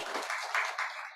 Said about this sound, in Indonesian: Tepuk tangan dulu buat Tuhan kita.